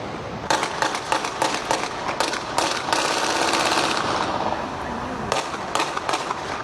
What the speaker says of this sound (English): Gunfire erupted in an area frequented by tourists near the airport.